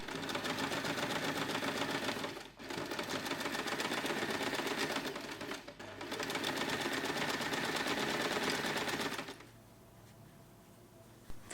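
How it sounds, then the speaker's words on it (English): Sewing machine running fast stitching around the edge of a small fabric snap-button pouch, a loud continuous whirring rattle with two brief pauses, stopping near the end to a quiet hum. "Sew around the entire edge, but leave a small opening on the lining side"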